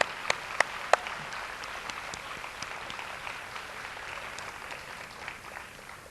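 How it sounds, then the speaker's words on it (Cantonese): Audience at a 1991 Chinese University of Hong Kong talk applauding a guest, a sustained crowd of clapping hands with a few sharper individual claps early on, fairly distant and even, gradually thinning toward the end. "我哋再俾啲掌聲佢啊"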